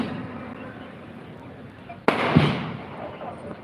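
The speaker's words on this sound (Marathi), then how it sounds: "फटाक्याची आतषबाजी होते आदरणीय रामदासजी आठवले साहेबांसाठी." Fireworks and firecrackers set off at a Bhim Utsav rally honouring Ambedkar, with one sharp loud bang followed by crackling bursts over a steady crowd murmur.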